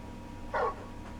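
Torgal, the large dog from the video game Final Fantasy XVI, gives a single short whimpering yelp in the middle of a quiet in-game moment, heard alone over faint ambience.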